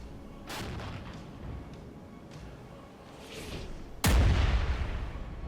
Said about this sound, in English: And we'll start counter battery on this artillery.